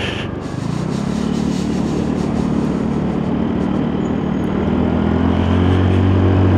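Lexmoto Diablo motorcycle running after a rebuild on a test ride, its engine droning steadily and loud throughout with a low rumble and rising pitch, wind noise on top.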